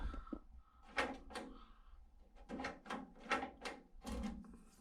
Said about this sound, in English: And now a working lock.